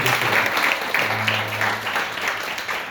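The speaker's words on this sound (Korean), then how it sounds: "박수로 한번 축하드리겠습니다" Audience applauding at a church summer-camp volunteer training session, a steady wash of clapping from a crowd for three seconds with a brief low hum partway through.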